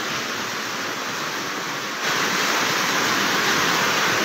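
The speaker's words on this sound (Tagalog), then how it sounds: "Sobrang lakas ng agos." Strong floodwater rushes in a loud, steady roar during flooding in Libon, Albay, a dense continuous wash of water that grows slightly louder partway through, with no voices.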